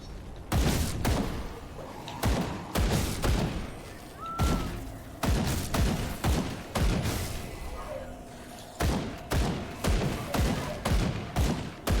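Repeated gunfire from shooting in the video game Grim Dawn, a steady series of sharp, loud shots in bursts across the stretch, with brief pauses between volleys.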